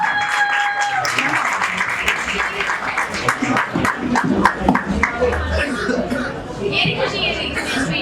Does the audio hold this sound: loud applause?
yes